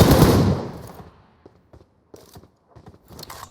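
PUBG Mobile gunfire: a loud, close burst of automatic shots opens, then trails into scattered faint clicks and small impacts, with no voices.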